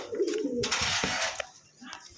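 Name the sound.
Giribaz pigeons cooing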